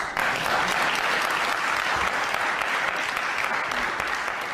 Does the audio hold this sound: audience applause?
yes